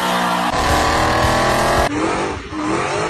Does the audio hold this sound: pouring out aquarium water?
no